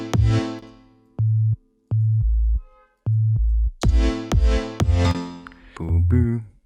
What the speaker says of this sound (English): Let's continue with a very simple bass. I choose a sine wave like this